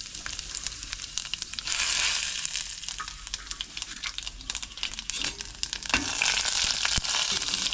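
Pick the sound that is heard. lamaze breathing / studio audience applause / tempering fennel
tempering fennel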